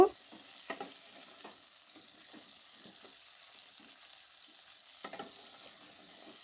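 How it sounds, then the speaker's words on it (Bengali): Jujube and tamarind pickle stir-fried in a pan, with soft scraping stirs and a few sharper spatula knocks over a faint, quiet sizzle, heard alone. "এইভাবে কষিয়ে নেব"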